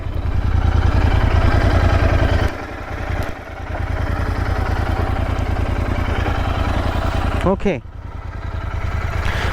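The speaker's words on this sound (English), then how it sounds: "so this is what the bike is sounding at this point" A Royal Enfield Interceptor 650 twin idles on its stand, having just come out of running-in, with a steady low throbbing pulse up close and a brief blip partway through, someone speaking briefly over it.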